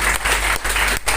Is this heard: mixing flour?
no